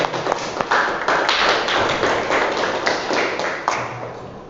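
A classroom audience applauds at the end of a lesson with dense, loud, steady clapping from many hands, sustained for several seconds.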